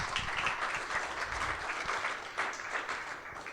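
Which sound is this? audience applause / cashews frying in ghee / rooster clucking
audience applause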